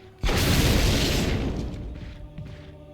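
A grenade explosion in the video game Resident Evil HD Remaster, one sudden loud boom that rumbles and slowly fades over a couple of seconds.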